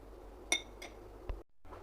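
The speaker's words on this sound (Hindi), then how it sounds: "अब मैं कुकर को 2 से 3 मिनट के लिए बंद कर देती हूँ" A pressure cooker lid is set and closed on a pot of aloo qeema, a few sharp metallic clinks and clacks close by, separated by short pauses, with a brief silence before the end.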